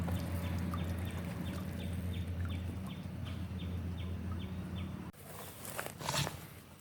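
Ducks quack in a steady, evenly spaced series over constant background noise outdoors, followed by a brief shuffling sound near the end, with no talking.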